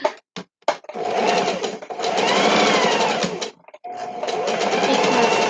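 A sewing machine whirs in short bursts, then runs in longer steady stretches with brief pauses between, close and fairly loud.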